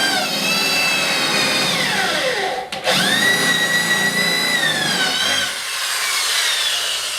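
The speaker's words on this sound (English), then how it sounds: "So I'm just going to drill a hole." A power drill whirs loudly, its motor pitch sliding down and up as it bites into material while drilling a hole during a bathroom countertop replacement, pausing briefly midway before spinning up again.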